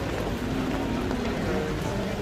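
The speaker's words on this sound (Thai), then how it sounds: "ฝนตก" Steady rain falls outdoors, probably at a market in Thailand, making a continuous even hiss that fills the whole stretch without breaks.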